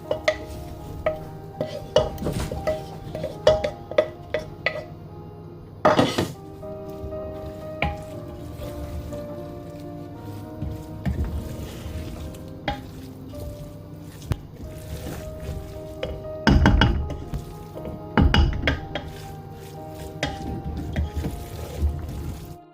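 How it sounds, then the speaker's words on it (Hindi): Omelette pieces are stirred into cooked cauliflower in a pan. A spatula scrapes and taps the metal in an uneven rhythm, with soft squishing and a few louder clanks. The sound is close and fairly quiet, with no talking. "ऑमलेट को गोभी में डाल दें और बाद में इसको मिक्स कर लें।"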